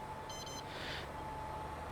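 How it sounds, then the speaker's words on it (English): A machine warning beep in Farming Simulator 22 gives a quick run of short, high, evenly pulsed tones. It plays over a steady hum of machinery, then stops. "I desperately need to turn that beep off."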